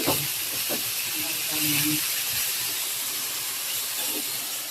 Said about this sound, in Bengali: পাঙ্গাস মাছের মাথাগুলো একটু ভেজে নিতেছি